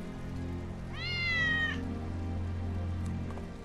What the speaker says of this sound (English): It's Wedge's cat.